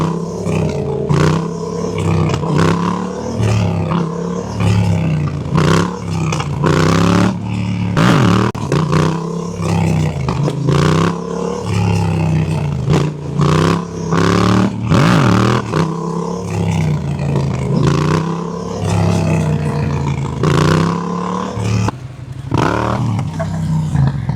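A Yamaha motorcycle engine roars loudly and steadily during a wheelie, revving up and down in repeated surges, with brief choppy gaps throughout.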